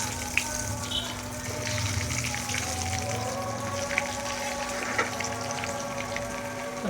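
Mutton bread bonda frying in half a litre of hot oil, a continuous, even crackle and bubbling hiss with occasional sharper pops, close and steady throughout.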